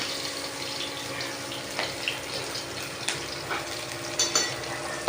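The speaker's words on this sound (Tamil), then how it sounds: "ஆனியன் ஆட் பண்ணிவிட்டு நல்லா ஃப்ரை பண்ணிக்கலாம்" Chopped onions frying in a pan with green chilies produce a soft, even sizzle, with occasional light clicks and scrapes from stirring and no talking.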